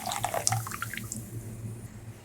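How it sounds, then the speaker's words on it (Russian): Mineral water is poured into a bowl for homemade raisin bread dough, a soft, close splashing and trickling that tapers off after about a second into quiet. "Вливаем минеральную воду или простую, не мешая."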